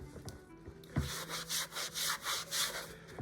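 A damp sponge scrubs stains off a white Stokke Tripp Trapp baby set, close rhythmic rubbing strokes repeating about every third of a second, soft and steady with no voices.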